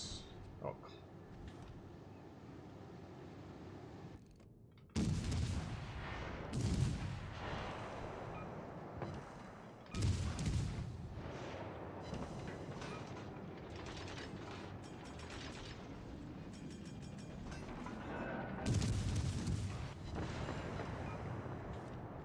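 A torpedo strike in the naval battle game World of Warships Legends: several heavy booming impacts with sharp onsets land at intervals over a dense bed of rumbling mechanical battle noise.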